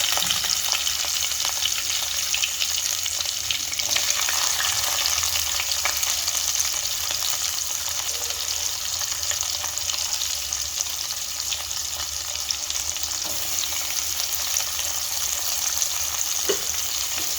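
Shallots fry with fennel seeds in oil for a squid gravy, a steady hissing sizzle throughout with occasional faint stirring scrapes, close and without any talk.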